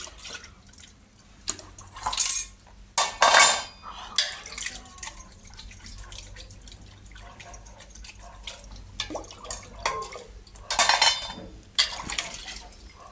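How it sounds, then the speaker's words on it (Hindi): Dishes are washed by hand under a tap, with intermittent bursts of running water and splashing between quieter stretches of soft clinks of utensils, close by. "अब इधर मम्मी बर्तन वॉश कर रही है"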